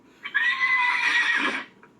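A horse gives one loud, drawn-out whinny lasting over a second, rising sharply and then trailing off into near silence.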